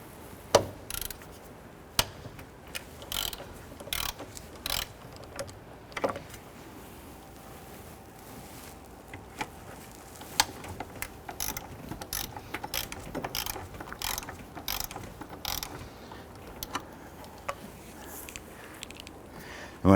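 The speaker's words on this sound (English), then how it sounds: "crack the two nuts loose on the booster itself. Using a 13mm socket and an extension to get in there." A ratchet with a 13mm socket on an extension loosens the brake booster nuts on a 2006-2014 Honda Ridgeline, giving close, crisp bursts of rapid clicking separated by short pauses.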